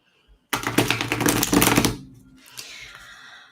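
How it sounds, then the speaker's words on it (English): A quick burst of tarot cards being shuffled, a crisp clattering riffle lasting over a second, then a softer rustle as the deck settles. "let's shuffle a little bit more."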